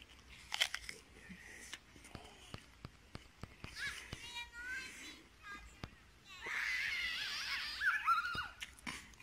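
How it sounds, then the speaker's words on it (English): A soft apple being bitten and chewed in a kitchen garden in Broseley, Shropshire, gives quiet crisp bites and moist, scattered chewing clicks, close by, with faint voices and outdoor sounds around them. "Like the Beauty of Bath, this apple is also soft."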